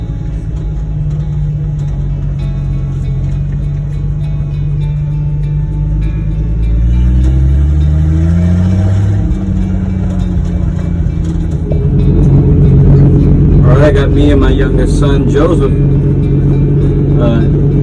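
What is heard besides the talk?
1972 Ford F100 truck with 240 I6 engine driving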